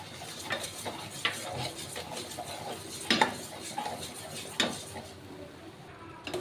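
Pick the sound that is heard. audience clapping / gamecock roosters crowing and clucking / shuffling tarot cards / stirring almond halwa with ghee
stirring almond halwa with ghee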